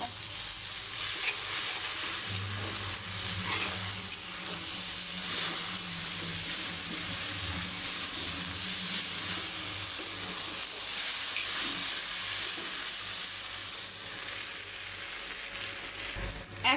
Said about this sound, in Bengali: দিয়ে দিব নুডলসের মশলা। আর ভালোভাবে নেড়ে ছেড়ে নেব।